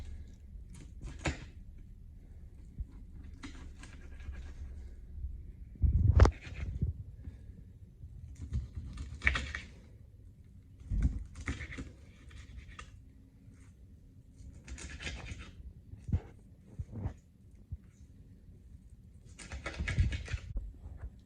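Knife chopping fish into small chunks on a cutting board for raccoon bait, with irregular close thuds and knocks, some sharper hits, and quiet pauses between bursts.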